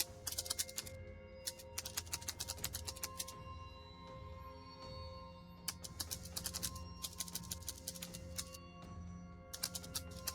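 Fast typing on a keyboard in bursts of rapid clicks, pausing briefly between runs, steady and close against a faint hum, with no voices.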